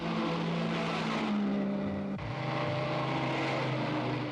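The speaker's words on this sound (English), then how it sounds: "And here comes Moss, well out in front with the leaders." 1950s racing cars passing during a long road race across Italy, with engine roar that swells and drops in pitch as a car goes by midway through, loud and continuous, with no talking.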